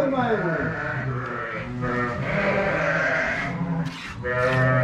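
Sheep and newborn lambs on a farm bleat repeatedly, several wavering calls overlapping close by, with a few human voices talking among the animals.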